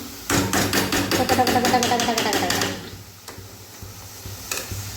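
A pot of food is stirred with a utensil, giving a quick steady run of scraping, knocking taps for about two seconds, then quieter handling and a few light clanks as a lid goes on in a home kitchen.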